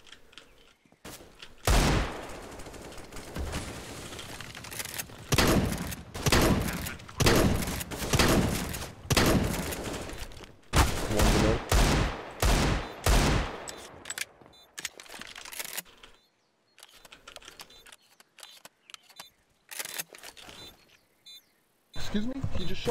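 Gunfire in Counter-Strike: Global Offensive comes in repeated bursts of sharp shots, some in rapid sprays and others single cracks, with short pauses between them. It sounds close and loud, and a player's voice is heard between the bursts.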